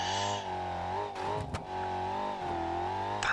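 A car engine in BeamNG.drive strains at full RPM while climbing uphill, holding a steady high-pitched rev with slight wavering and brief dips, moderately loud and alone.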